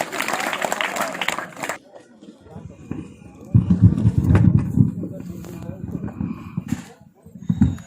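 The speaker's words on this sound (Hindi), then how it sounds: "जोरदार तालियों से इनका स्वागत किया जाए।" Audience applause rises at a school celebration of Savitribai Phule's birth anniversary in Gorakhpur, greeting a student speaker; a burst of clapping fills the opening moments, then gives way to quieter crowd rumble and shuffling.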